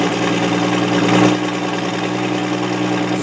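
A cold truck engine idles steadily on its manual choke, a continuous low, even rumble with a brief swell in loudness early on before settling into a constant drone.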